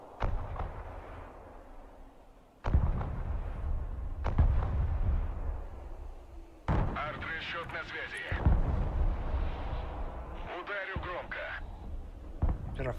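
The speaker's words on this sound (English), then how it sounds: "we'll drop artillery there" Artillery shells land in the modern-warfare strategy game Broken Arrow: several heavy booming impacts spaced a couple of seconds apart, each a loud broadband blast trailing into rumble, over a busy battlefield background.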